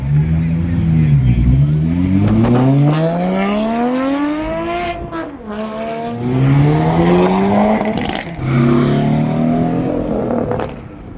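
Race cars roar past on a racetrack during ride-alongs, with rising and falling engine revs, one after another, the whine sweeping up and down continuously at moderate distance.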